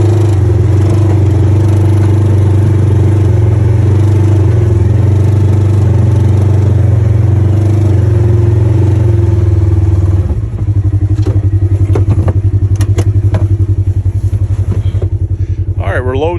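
A Polaris RZR UTV engine runs loudly close by as it is loaded onto a trailer, a steady deep drone that shifts to a rougher rumble midway, with clatter and scraping noises over it.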